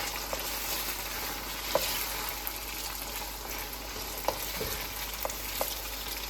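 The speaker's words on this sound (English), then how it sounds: "Stir it for a couple of minutes on medium flame" Black chickpeas (kaala chana) sizzle steadily in a pan over a medium flame, a continuous frying hiss broken by a few faint clicks and scrapes from stirring, with no voices.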